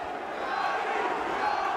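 A boxing arena crowd roars on its feet during a fight between Ivan Robinson and Arturo Gatti, a sustained dense cheer with a commentator's voice running over it.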